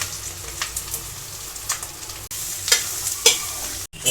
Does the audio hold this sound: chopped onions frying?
yes